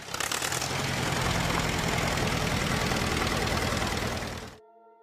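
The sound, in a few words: WD45 tractor engine running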